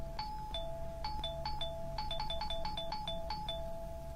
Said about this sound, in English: Whoever was ringing my doorbell was really, really persistent.